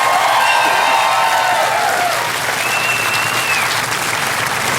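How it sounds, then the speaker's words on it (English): Loud, sustained applause from a TV comedy panel show studio audience, a thick continuous roar of clapping with whoops and cheers rising over it early on. "Ladies and gentlemen, a big round of applause there for them."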